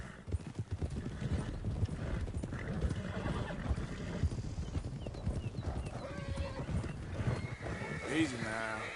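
Horses in Red Dead Redemption 2 walk with rhythmic hoof clip-clops, and one gives a clear neigh near the end. A voice talks over much of it.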